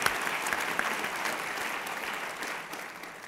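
An audience at a Friday afternoon event in Texas breaks into steady, dense applause for a speaker, a sustained wash of clapping that holds at even strength throughout with no talk over it.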